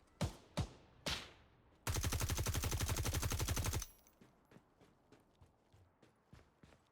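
Gunfire in a roleplay video game: a few loud single shots, then a sustained, evenly spaced automatic burst lasting about two seconds, followed by quieter scattered reports.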